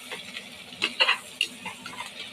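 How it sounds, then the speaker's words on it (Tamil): Onion, cardamom, cinnamon, cloves and bay leaf are sautéed in hot oil for a kurma: a faint sizzle runs beneath a few quick spatula scrapes and clinks against the pan, clustered near the middle. "இது எல்லாத்தையும் போட்டு நல்லா வதக்கணும்"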